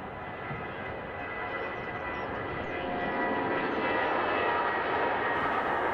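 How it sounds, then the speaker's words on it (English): A Lufthansa Airbus A321 airliner accelerates on its takeoff roll, a steady broad engine roar heard from a distance that swells slightly louder toward the end. "Here's a Lufthansa A321 on her takeoff roll."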